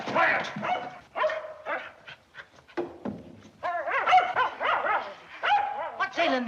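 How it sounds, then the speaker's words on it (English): A dog howls and whimpers in an old film scene, with whining, rising and falling cries and short yips alternating with people talking nearby. "Let him howl if it makes him feel good."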